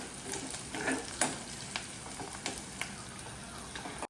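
Chopped onions fry in a pan while cooking a vegetable curry, giving a steady close sizzle with small crackles and occasional scraping stirs, and no talking.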